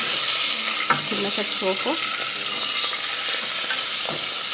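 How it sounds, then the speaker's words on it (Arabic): Chicken pieces frying with onion in oil in a pot, giving a loud, steady sizzle and hiss with some stirring clatter, while a person speaks briefly over it. "دابا كما كتشوفوا معنا الدجاج تقلى وخدا واحد اللون ذهبي زوين"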